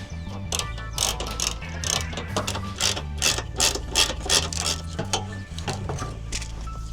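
A ratchet undoes a bolt on a Honda Civic (EF) bumper during headlight removal, with rapid close clicking bursts in quick repeated strokes and brief pauses between them.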